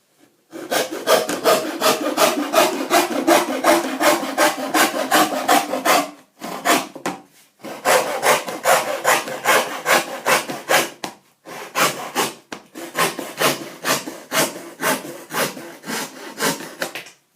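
A hand saw cuts through wood in brisk, rhythmic back-and-forth strokes, loud and close, coming in three long bursts separated by brief pauses, with no talking.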